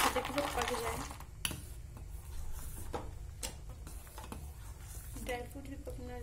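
A spoon stirs rice kheer cooking down with milk and dry fruits in a pot, giving a steady run of soft scrapes and clicks against the metal while a faint voice or background sound continues underneath.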